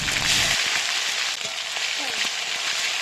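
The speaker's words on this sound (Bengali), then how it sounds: "কিছু টমেটো কিছু এবং লঙ্কা বাটা একসঙ্গে গরম তেলে দিয়ে দিলাম" Tomato and chili paste hit hot oil already seasoned with black cumin for a Bengali pabda fish curry, giving a steady, bright sizzling hiss that continues unbroken, with a faint low murmur at the start.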